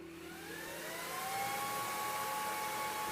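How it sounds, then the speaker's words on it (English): A Creality Falcon Pro laser engraver homes with a quiet, rising motor whine and steady whir that hold at a near, even level after about a second. "Now I can home my laser"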